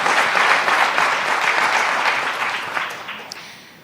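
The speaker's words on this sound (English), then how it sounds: "So a huge round of applause for an incredible panel," Dense applause from a conference audience for a panel, loud at first and slowly tapering off over a few seconds, with no voices on top.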